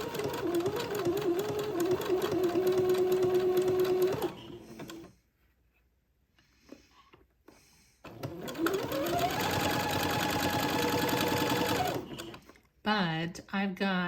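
A sewing machine zigzag stitching lace onto entredeux, a steady close mechanical whir in two long runs with a quiet break between, followed by a voice speaking.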